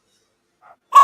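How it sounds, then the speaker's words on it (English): A single sharp bark from a dog in a backyard, near and loud after a brief faint sound, with no talk over it. "he's barking"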